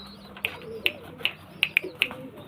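A pair of Kalshira Teddy pigeons gives a series of short, soft calls at irregular intervals, close by but faint, with no talking.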